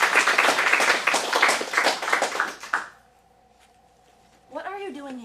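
Small audience at an acting studio showcase clapping for about three seconds, a brisk close applause that fades out into near silence before a voice begins speaking.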